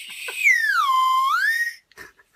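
Whistle sweet blown like a whistle, giving one loud, close, pure tone that slides down and back up in a swooping wolf-whistle shape, followed by a few faint rustles.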